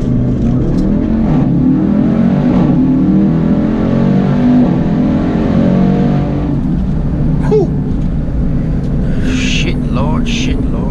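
A 2018 Jeep Trackhawk launching under launch control, a loud, close engine roar climbing hard through revs with a shift-like break partway, wind and cabin noise filling the clip while a voice speaks briefly over it.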